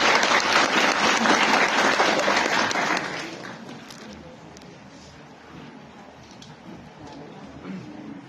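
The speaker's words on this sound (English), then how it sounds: "A round of applause, please." An audience at a school valedictory ceremony breaks into loud, dense applause that fades after about three seconds, leaving a quieter room with scattered claps and faint murmuring.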